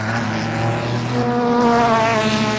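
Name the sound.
Ferrari 296 Challenge race car passing on track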